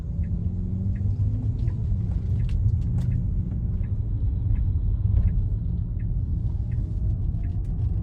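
A Tesla Model Y fitted with wheel covers makes a U-turn, giving a low, continuous road and tire rumble with faint light ticks over it, steady and close from inside the cabin, with no talking.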